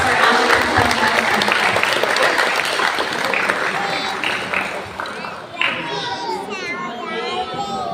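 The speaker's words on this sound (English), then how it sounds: "Can we give a big round of applause for our" A large audience claps in a sustained round of applause, loud and dense, with children's voices and crowd chatter mixed in underneath.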